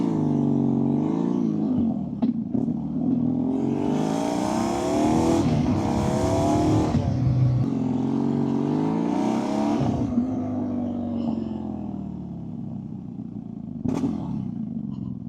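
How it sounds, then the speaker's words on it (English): A BMW R nineT motorcycle fitted with an Akrapovic exhaust, valve closed, revs close by with a raspy note, its pitch climbing and falling through several throttle blips over a steady idle. "I feel like I've bedded the exhaust in and I've got a really nice raspy sound with the valve closed"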